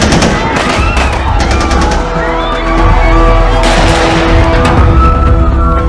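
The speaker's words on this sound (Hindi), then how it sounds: "दो अनजान आदमी छत्रपति शिवाजी टर्मिनस में घुसे और गोलियां चलाने लगे" Dense, chaotic bursts of sharp cracks and booms from gunmen firing inside Chhatrapati Shivaji Terminus railway station in Mumbai, layered over loud, rumbling background noise, like sustained gunfire in a tense scene.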